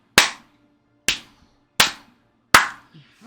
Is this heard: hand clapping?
yes